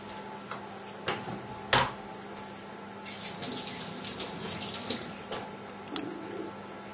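Hands are washed under a running kitchen tap, a steady close stream of water with a few sharp knocks and splashes at the sink.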